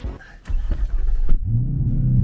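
A Corvette engine revs loudly and close by, a deep throaty rumble that drops into a steady, heavy idle.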